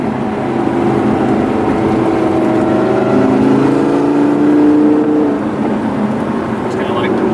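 An Audi R8 V10 Plus engine in sport mode revs while driving, a steady loud drone with rising and falling pitch sweeps heard from inside the car, a voice speaking over it.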